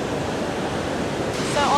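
Iguazu Falls on the Brazilian side, a vast set of waterfalls, gives off a steady, loud broadband roar of falling water that fills the whole clip without a break.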